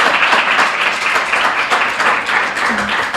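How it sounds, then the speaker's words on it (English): Audience applause at an awards reading, honoring a medal winner: dense steady clapping fills the whole stretch at even loudness, with no voices over it. "if we could give her a round of applause"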